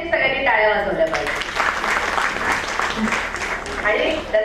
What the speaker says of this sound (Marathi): सगळ्यात आधी आपल्या सगळ्यांसाठी सगळ्यांनी टाळ्या वाजवल्या पाहिजे